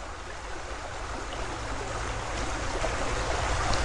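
Muddy creek water rushing steadily downstream in a broad, continuous wash that swells slightly louder toward the end, with no voices.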